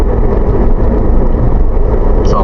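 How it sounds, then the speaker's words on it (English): Road traffic in the Seattle area rolls past in a loud, steady roar of engines and tyres close by, a continuous wash with no pauses. "there's a lot of traffic out right now."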